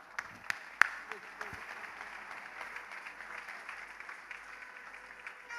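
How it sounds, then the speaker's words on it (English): A church congregation applauds with a continuous, even patter of many hands clapping, with a few sharper claps near the start, while a voice speaks over it. "Applaudissons pour le Seigneur."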